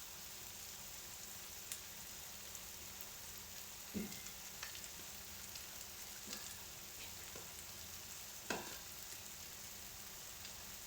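Paneer bhurji frying in a pan with a soft, steady sizzle, broken by a few scattered scrapes and taps as it is stirred; fairly quiet and close.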